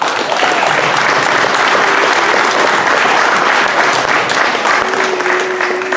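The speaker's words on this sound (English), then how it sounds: "So give your teacher from the first term a round of applause," A school audience gives a steady round of applause honouring a first-term teacher at a class awards event, dense and sustained clapping that stays loud for the whole stretch, with a brief faint tone near the end.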